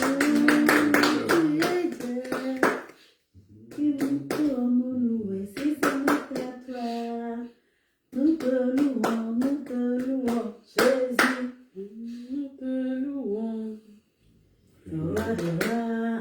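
A church congregation at a worship service in Liège, Belgium claps steadily and rhythmically beneath loud, close group singing that carries through most of the stretch, with brief pauses between phrases.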